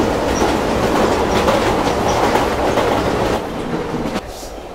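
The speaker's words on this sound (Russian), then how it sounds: "Мы увидим, что задние вагоны постепенно отцепляются." Subway train cars rattle and clatter steadily in the Silent Hill 3 metro, a loud continuous rumble with rhythmic wheel clacks that eases slightly near the end.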